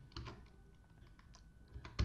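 Quiet clicks of typing on a computer keyboard, several scattered keystrokes with a sharper louder pair of strikes at the end, no talking.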